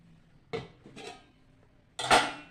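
Metal clanks as a lid is set onto a cake pot on a gas stove with the flame just switched off: two light clinks, then a louder, fuller clatter of the lid seating, close and alone.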